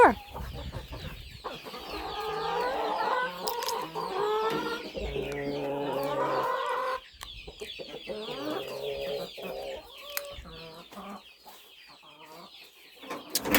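Several chickens cluck and squawk nearby in a busy barnyard chorus, with scattered short calls over steady background noise.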